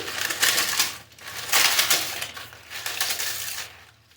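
Dry, brittle crunching and crackling in short bursts as fried papad is broken up by hand, close and fairly loud.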